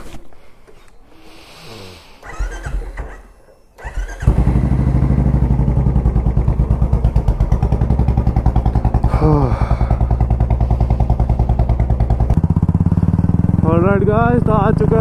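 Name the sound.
motorcycle cold start on a Sunday ride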